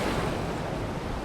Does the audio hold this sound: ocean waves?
yes